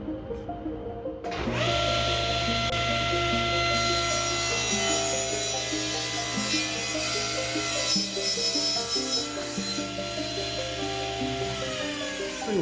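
A power saw cuts a 1/8 inch strip from architrave moulding stock, spinning up after a quiet second and holding a steady loud whine with a low hum for about eleven seconds before winding down.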